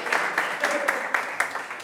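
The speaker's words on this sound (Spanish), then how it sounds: "Un aplauso al compañero." A classroom group claps for a classmate, a brisk burst of close, uneven hand claps lasting under two seconds.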